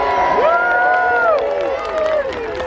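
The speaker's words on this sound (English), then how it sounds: "Give them a cheer." A crowd at a Battle of Hastings re-enactment cheering and shouting together as cavalry charge with lances, loud and sustained, with several voices rising and falling in long calls.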